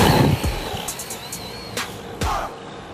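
A Vkar Racing Bison brushless 1:10 RC car speeds past with a thin motor whine, punctuated by a few sharp whooshing bursts as it races by alone.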